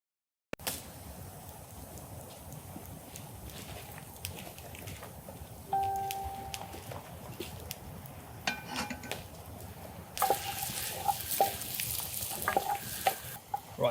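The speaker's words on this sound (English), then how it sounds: "I've just melted some butter into here, I've added the garlic and now the shallots, so I'll just sweat those down a little bit" Garlic and shallots sweat in melted butter in a pan during an outdoor cook of foraged Gower mussels, a quiet steady sizzle with occasional stirring scrapes and light metallic clinks of utensils against the pan.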